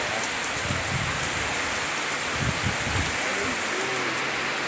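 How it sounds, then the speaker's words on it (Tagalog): Steady rain pours down on a farm in Leyte, Philippines, a dense continuous hiss with low patter from drops hitting surfaces, while people talk faintly underneath. "Ulan na naman."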